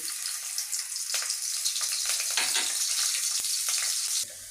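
Chopped garlic sizzles in hot mustard oil in a kadai, a loud, steady crackling hiss that runs without a break and then drops away abruptly at the very end.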